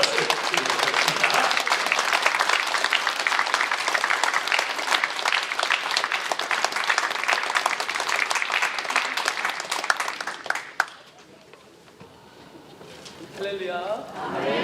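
Church congregation gives a big round of applause for a visiting missionary, a loud sustained wash of clapping that cuts off abruptly, leaving quiet room tone and faint shuffling.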